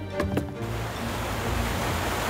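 Ocean waves wash steadily around a ship sailing on open sea: a continuous, fairly loud rushing surf with no voices, opening with a couple of brief tonal blips.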